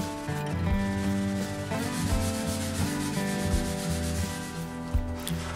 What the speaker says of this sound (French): je finis avec la ponceuse orbitale pour avoir un fini vraiment parfait